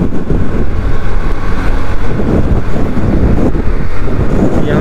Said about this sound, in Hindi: क्या खतरनाक हवा चल रही है